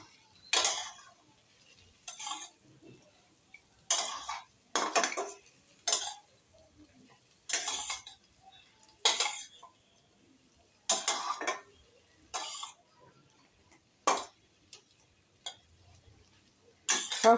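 A spoon clanks and scrapes in bursts against a pan while hilsa fish head is mixed with vegetables, irregular metallic clinks spaced a second or two apart, close and otherwise quiet.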